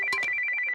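A telephone rings at night with a bright, steady electronic trill, one short burst of tone pulses with a couple of soft clicks at the start, close and clear with no talking.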